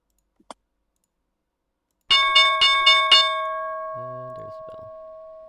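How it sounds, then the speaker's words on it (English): An opening bell for a live trading session rings in several quick, loud metallic strikes, then its tone hangs and slowly decays; a faint low murmur sits beneath the fading ring. "And there's the bell."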